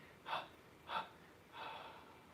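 Three soft breaths are pushed out during a quiet guided meditation, two short ones and then a longer, gentler one, close and faint.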